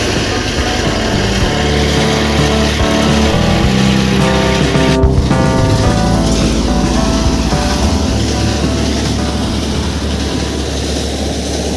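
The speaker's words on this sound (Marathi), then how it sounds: "मशीन चालू झाली आहे आणि आपला धान निघत आहे" A paddy threshing machine in a farm field drones and whirs continuously, a loud, steady mechanical roar with rattling underneath and no talking.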